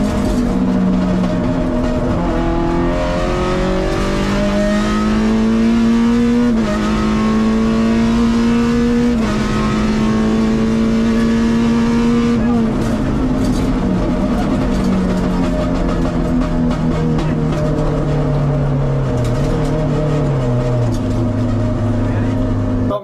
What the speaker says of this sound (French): la Clio c'est qu'elle fait beaucoup de bruit malgré qu'on ait des casques et tout